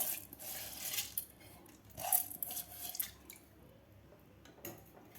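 Soaked bajra millet and its soaking water are tipped into a pressure cooker, giving wet splashes, drips and a few metallic clinks against the pot, fairly close and quiet, with no talk.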